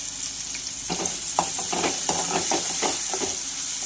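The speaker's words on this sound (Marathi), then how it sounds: "तर एक मीडियम साईजचा बारीक चॉप करून कांदा घेतलेला आहे, हा सुद्धा यामध्ये घालायचा आहे आणि छानपैकी फ्राय करून घ्यायचा आहे" Finely chopped medium onion frying in a pan for aloo matar bhaji, a steady close sizzle with a few soft scraping stirs over it.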